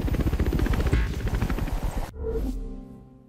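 A helicopter in the video game The Crew 2 gives loud, close, rapid rotor thumping with a roaring engine, then cuts off abruptly into a fading whine and a low resonant hum.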